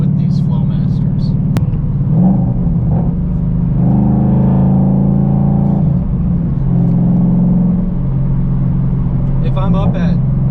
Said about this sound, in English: the drone in here is crazy with these Flowmasters